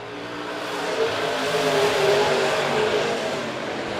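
Modified race cars race in a heat at Monett Motor Speedway, a dense roar of engines swelling as the pack passes and then easing slightly, loud and continuous with no talk.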